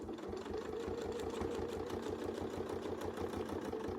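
A sewing machine stitches a quilt with a Westalee circles tool, a fast, steady mechanical whir and rapid rhythmic needle clatter, faint and close.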